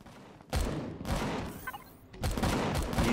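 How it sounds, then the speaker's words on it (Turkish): Rain in the space-survival game Empyrion Galactic Survival comes in heavy, gusting bursts of broadband noise, swelling and dropping several times while the player is indoors. "Şu yağmur sesini kes artık."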